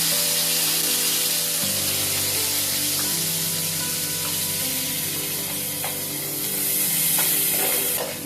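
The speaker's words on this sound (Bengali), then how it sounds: "পেঁয়াজ রসুনটাকে ভালো মতো ভেজে নিব" Chopped onion and garlic cloves fry in hot oil with a dense, loud, continuous sizzle and spitting hiss, nearby, with faint stirring and no talk.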